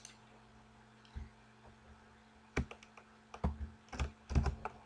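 Keystrokes on a computer keyboard as a web address is typed in, quiet sparse taps at first, then a few rapid clustered bursts of clicking, with no talking.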